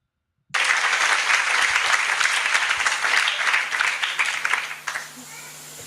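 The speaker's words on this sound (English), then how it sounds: "they're clapping and laughing and joking right along with him" An audience bursts into loud, dense applause that starts abruptly, carries on steadily for several seconds, then fades out.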